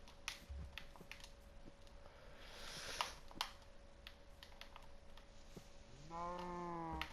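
A low, drawn-out cow moo in Minecraft near the end, following scattered soft clicks and taps against a faint steady hum.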